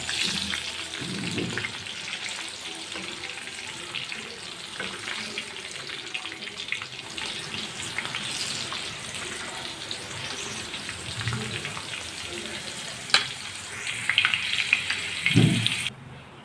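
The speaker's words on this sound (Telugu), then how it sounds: "ఈ విధంగా ఫ్రై చేసుకోవాలండి" Corn kernels frying in hot oil for crispy restaurant-style corn, a steady close hiss and crackle that runs throughout, with a few louder spatters and bursts near the end; no one speaks.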